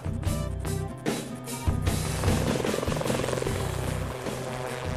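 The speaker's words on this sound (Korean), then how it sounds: "일명 버프 날개와 한층 강력해진 엔진을 탑재한 웨스틀랜드의 링스는 헬리콥터의 세계 최고 속도에 도전했습니다." A Westland Lynx helicopter with experimental BERP rotor blades and an uprated engine, flying for the 1986 helicopter speed record. Its rotor and turbine drone steadily and loudly with a rhythmic chop.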